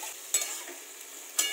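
Ground spice paste of cumin, ginger, chilli and coriander with fried garlic and onion is stirred in a kadai, giving a faint, steady sizzling hiss broken by two light scrapes of the spoon.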